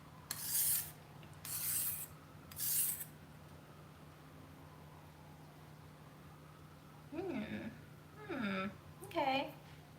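Knife blade sharpened by hand, three loud rasping strokes in the first few seconds, then a quieter stretch, followed by nearby speech.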